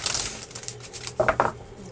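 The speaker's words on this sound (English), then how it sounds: "but I'm going to shuffle one more time." Tarot cards being shuffled by hand, a soft papery riffling with a few quick louder bursts of flicking near the end, close and fairly quiet with no talking.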